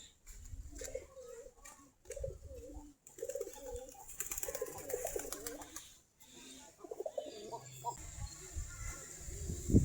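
Desi Giribaj pigeons feeding in a loft, with soft repeated cooing and murmuring throughout, mixed with light shuffling and occasional human voices in the background.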